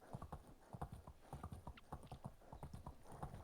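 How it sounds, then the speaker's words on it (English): Horse hooves pound along at a quick, even rhythm in Medieval Dynasty, a steady run of clip-clop beats heard close and alone, fairly faint overall. "double tapping shift also works for auto run on your horse."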